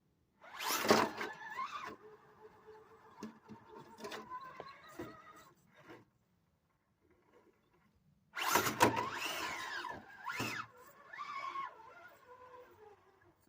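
RC rock crawler climbing an obstacle under throttle, its electric motor whining in two loud bursts with a quiet gap between them, rising and falling in pitch as the rig strains.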